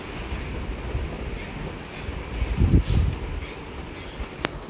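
Gusty monsoon wind drives rainwater in through a doorway, a rough rumbling buffeting that swells louder midway before settling back, with a faint voice in the background.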